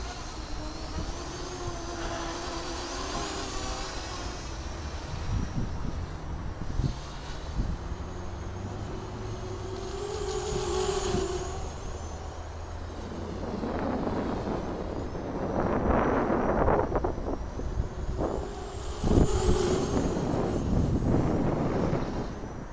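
The motors of the Mini Voomer prototype model aircraft with canopy whine as it flies, rising and fading as it passes, with wind noise buffeting the microphone.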